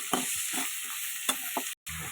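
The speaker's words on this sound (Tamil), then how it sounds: "நம்ம வெங்காயத்தை சேர்த்துக்கலாம்." Onions frying with ginger and garlic in a pan for a village-style tomato thokku, a steady close hiss of oil with a few soft stirring scrapes and a brief gap near the end.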